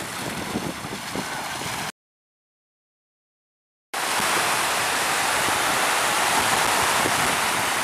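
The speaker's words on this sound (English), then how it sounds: "very calm, and associated with that are these constructive waves" Gentle constructive waves breaking on a calm beach in the evening, a broad steady surf roar with faint wind, cut by about two seconds of total silence before the wash resumes louder.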